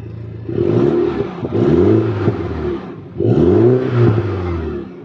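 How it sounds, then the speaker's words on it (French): A Mini John Cooper Works F56 engine in normal mode revs up in two short, loud blips close by, each rising whir falling back to idle between them. "Mets 2-3 petits coups d'accel, s'il te plaît."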